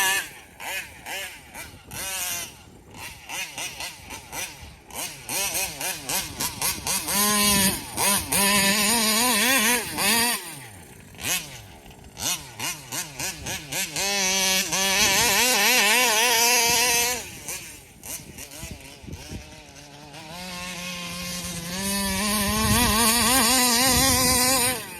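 An RC car fitted with a Taylor RC 35 reed nitro engine, a loud high-pitched whining engine that revs up and down repeatedly, with short pauses and rising accelerations as it runs nearby and passes at varying distances.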